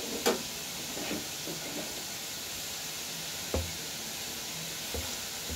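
Malpua batter, ladled in two at a time, fries in hot oil with a continuous sizzling hiss and a few soft ladle and stirring knocks, close and steady with no talking.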